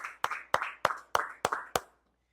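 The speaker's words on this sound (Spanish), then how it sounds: "Denle un aplauso a la palabra de Dios." A church congregation gives a short burst of applause: seven sharp, evenly spaced claps in a steady rhythm, fairly faint, then silence.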